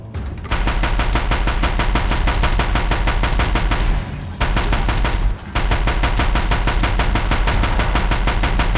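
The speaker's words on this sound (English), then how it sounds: "The Deathbringers keep firing." Deathbringer machine guns in Horizon Zero Dawn fire in loud, relentless rapid bursts, a continuous rattling stream of shots broken by two brief pauses, with no speech over it.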